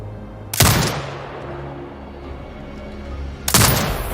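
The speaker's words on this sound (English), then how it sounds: "Exit binocular mode and command the turret to fire." Turret cannon firing in a military video game: two loud, booming shots about three seconds apart, each with a sharp blast and a long rumbling decay, over a low steady engine hum and no talk.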